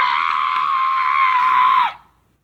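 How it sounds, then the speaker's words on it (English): An extremely loud, piercing scream blares from a creepy video right after a car hits a wall, one sustained shriek held for about two seconds before cutting off abruptly into silence. "the video will play screams that are so loud they can break the player's speakers"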